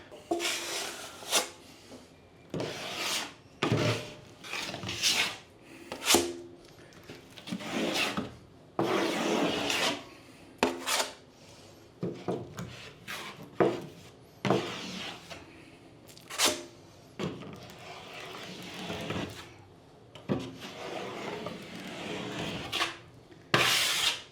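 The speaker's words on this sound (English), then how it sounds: "And I'm packing that joint right full." A drywall knife scrapes and packs joint compound into a corner joint over tape, giving repeated close, gritty swiping strokes in an irregular rhythm with brief pauses between passes.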